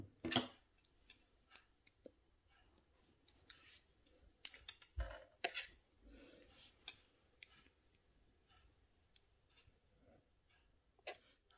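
Small snips of wire being cut for a wire-wrapped bead pendant: scattered sharp clicks and snaps, close and fairly quiet, spread irregularly across a quiet room with no talking.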